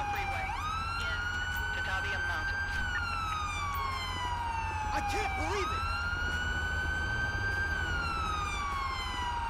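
A wailing police siren in GTA 5 sweeps steadily up and down, loud and continuous over a low engine hum, with brief electronic chirps partway through.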